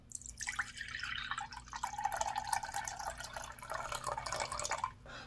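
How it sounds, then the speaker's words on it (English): Apple juice pours steadily into a bowl in a kitchen while making granola parfaits, a continuous trickling, splashing stream lasting several seconds before it stops. "So we're gonna pour that right into our bowl, and we can put our apple juice aside."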